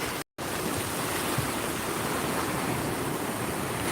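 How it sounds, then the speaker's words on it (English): Steady rushing of cold Florida sea water washing around feet being rinsed, a continuous close wash of splashing and surf with no voices. "Rinsing my feet off"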